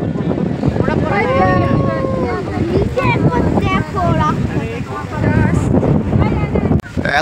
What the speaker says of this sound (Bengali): হাওয়ার আওয়াজ,